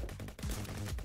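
A shotgun firing rapidly in a video game, several loud, quick blasts packed into about a second.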